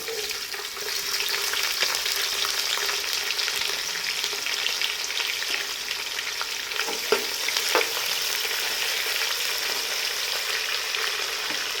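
Onions fry in hot oil with biryani masala, giving a dense, steady sizzle that is close and continuous throughout, with a few faint clicks of stirring. No one speaks.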